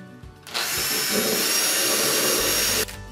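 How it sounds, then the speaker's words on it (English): A power drill whirs steadily for a couple of seconds, drilling pilot holes in a door, close and loud, starting and stopping abruptly with no talking. "pilot drill the fixing holes"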